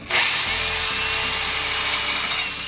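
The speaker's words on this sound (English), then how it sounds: "Use a 3/8 drill bit and drill a hole through the original track bar bracket." A close, loud power drill with a 3/8 bit runs continuously at high speed, a shrill, steady whine grinding through a steel Jeep JK track bar bracket without pause.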